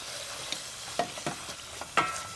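Chili paste stirred into hot coconut oil over low heat: soft scraping stir strokes with a light sizzle, a few distinct swipes close by and no one talking.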